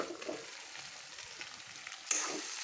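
Mutton with garlic paste fries in oil for a karahi curry, with a quiet, even sizzle, brief faint stirring sounds and a slightly louder burst near the end.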